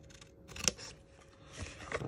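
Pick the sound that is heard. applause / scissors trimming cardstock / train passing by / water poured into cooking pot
scissors trimming cardstock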